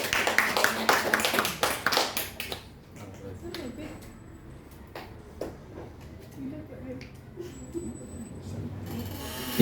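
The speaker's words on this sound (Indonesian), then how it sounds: "Oke, tepuk tangan dulu untuk kita semua" A classroom gives a burst of clapping that fades after a couple of seconds, followed by scattered taps and faint room noise.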